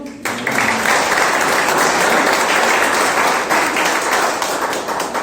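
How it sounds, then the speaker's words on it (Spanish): A church congregation breaks into sustained applause, dense steady clapping from many hands filling the room for several seconds. "¿Cuánto le dan un aplauso al Señor?"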